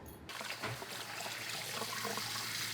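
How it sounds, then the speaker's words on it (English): Quail eggs rinsed under a steady stream of cool running water, a continuous close splashing trickle that starts after a brief quiet moment and runs without a break. "I run them under some cool water to make sure no shells are left"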